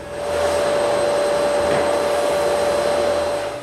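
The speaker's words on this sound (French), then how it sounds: "Ensuite, je passe l'aspirateur partout," A vacuum cleaner in a workshop under construction runs loud and close with a steady high whine and airy rush, holding constant before trailing off at the end.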